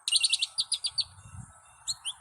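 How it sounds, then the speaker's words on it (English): A goldfinch calls in a backyard, giving a quick run of high, thin chirps and twitters, then a pause and two more brief notes, close and clear against faint background murmur. "The call of the goldfinch is kind of just garbled, and it's very high pitch."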